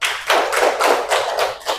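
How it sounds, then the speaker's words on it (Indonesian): Classroom applause from students: a short run of quick, fairly close hand claps in rough rhythm, with no talking. "Tepuk tangan buat Mbak Erlita."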